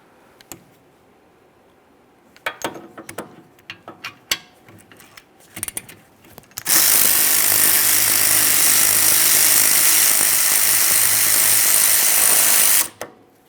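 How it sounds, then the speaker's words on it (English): Power tool with a 7mm Allen socket backing out a rear brake caliper slider pin on a 2013-2020 Ford Fusion: scattered clicks and taps first, then one loud, sustained whirring burst of about six seconds that cuts off abruptly. "you'll be using a 7mm Allen head socket to remove this"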